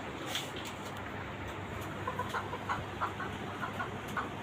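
Desi chickens in a small cage-system breeding farm give soft, scattered clucks over a constant hum of background noise, with a few brighter calls clustering toward the end.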